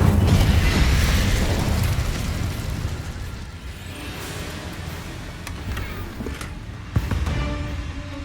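Incendio fire spell cast in the Hogwarts Legacy video game, a loud whooshing burst of flame at the start that decays into a rumbling roar, with a second sharp pop near the end.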